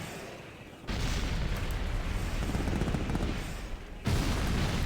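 Sustained loud gunfire from a Gatling defense turret in the real-time strategy game C&C Generals, a dense continuous rattling roar with a brief lull before it starts and a louder burst near the end.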